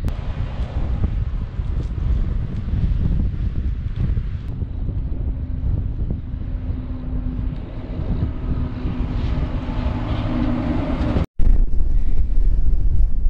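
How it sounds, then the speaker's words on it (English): Strong wind buffeting the microphone while cycling, a loud continuous rushing roar that rises and falls and fills the whole stretch. "So today we're battling against the wind."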